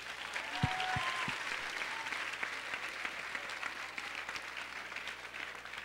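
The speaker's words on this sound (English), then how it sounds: "a huge round of applause to you guys" Audience applause fills the hall at the finale of a dance show, steady continuous clapping that holds at an even level from start to end, with a few faint voices mixed in.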